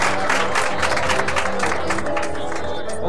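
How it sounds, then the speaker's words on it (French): Audience applause greets a comedian walking onstage at a French-language stand-up show, a dense, steady wash of clapping that fills the whole moment with faint crowd noise mixed in. "Voici Denis Gobeil qu'on applaudit bien fort."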